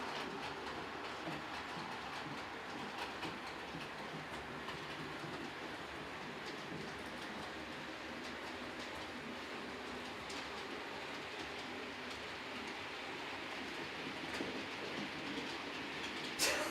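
A model train engine circles a layout, giving a faint, continuous rolling rumble with light clicks from the track. The sound is steady throughout and has no talk over it.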